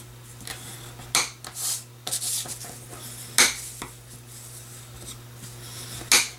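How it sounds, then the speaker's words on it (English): A bone folder burnishes paper cards in a crafting session, producing a series of brisk rubbing and scraping strokes, some longer and some short, close up over a low steady hum. "we're going to give them a good burnish with our bone folder"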